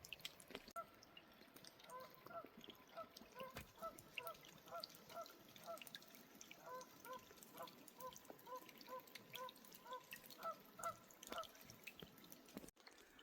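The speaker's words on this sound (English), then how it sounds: "Some Canadian geese over there talking." Canada geese honking near a lake by the Quinault River, a series of repeated distant calls in an irregular rhythm over a steady outdoor background of water and ambient noise.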